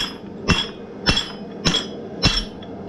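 A blacksmith strikes hot metal on an anvil while forging a leaf, squaring the stock to draw out the stem: four evenly spaced, ringing hammer blows about half a second apart.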